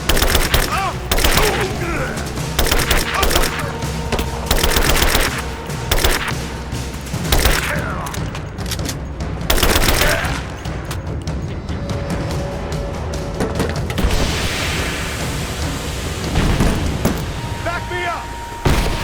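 Heavy machine gun fire in a combat video game, loud rapid bursts and volleys with booming impacts, continuing under shouted voices of squadmates.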